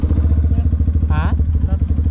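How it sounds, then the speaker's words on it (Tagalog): A motorcycle with a flat tire is pushed along by its rider, a steady low rumbling drone with a faint rhythmic pulse and a brief rattle partway through, close by while people talk. "isang motorista na may tulak-tulak na isang motor"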